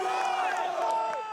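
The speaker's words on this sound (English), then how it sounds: "The crowd is going wild for the young Aussie" A race crowd roars and cheers for young Australian rider Troy Brosnan on a downhill mountain bike run at the 2016 Crankworx Les Gets event, with a steady wall of noise and a voice talking over it.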